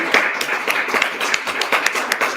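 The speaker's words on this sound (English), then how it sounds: "Les applaudissements font bien remarquer qu'on est aussi en présentiel." Scattered applause from an in-person seminar audience, a handful of people clapping at an uneven pace, close and moderately loud.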